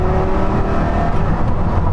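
A Porsche Carrera GT's engine revs loud and close in a drag race against a Lexus LFA, a steady, sustained roar with rising harmonics as it pulls through the gears, no speech over it.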